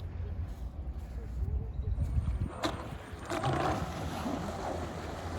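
A fast radio-controlled catamaran speedboat runs across open water, its motor buzzing steadily with splashing and wind noise throughout, loud and fairly close.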